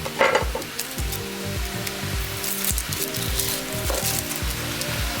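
Meat and onions sizzle steadily in a home kitchen pan, a continuous close frying hiss broken by periodic scraping stirs, with no talking.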